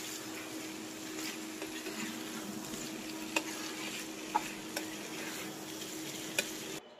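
Fried peas and potatoes being stirred into masala in a pan, a steady sizzling, scraping churn with a few sharp utensil clicks against the pan, close and continuous without talking.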